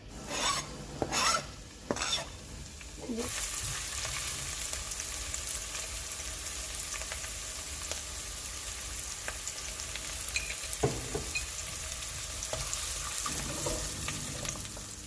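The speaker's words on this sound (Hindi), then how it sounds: "अब देखिएगा मैं इसमें थोड़ा बस सौते इसको करना, ब्राउन नहीं करना" Ingredients sauté in a pan while a homemade samosa chaat is prepared, giving a steady close sizzle with occasional scraping and stirring clatters, no voices.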